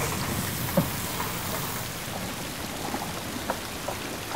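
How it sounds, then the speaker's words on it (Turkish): Steady rain falling outdoors, a dense even hiss of drops with a few sharper patters on a surface, continuous and moderately close with no voices. "Nereden çıktı bu yağmur? Akşam üstü yağacak demişlerdi."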